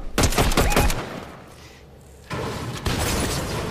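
Rapid gunfire in the Fortnite video game: a dense burst of loud shots up front, a brief lull, then more sustained firing with sharp cracks near the end, no talk over it.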